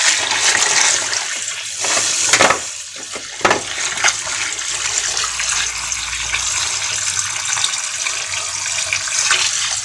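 Tap water runs and splashes steadily while mackerel is rinsed and soaked, a loud, close, continuous gush with brief dips and surges as the flow is disturbed by handling the fish.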